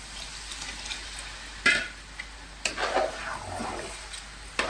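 Tamarind water poured into a pan of curry made with turmeric, salt and chili powder, with a soft steady sizzle and bubbling broken by a few sharp splashy bursts, close and alone without talk.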